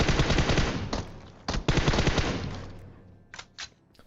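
Gunfire in a video game, loud close bursts of rapid automatic shots, a long stream then shorter bursts, tapering to a few isolated shots at the end, with no talking.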